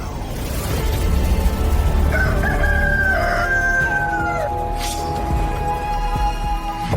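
A big rooster crows once, loud and close, its drawn-out call rising and then trailing off against a steady background rumble.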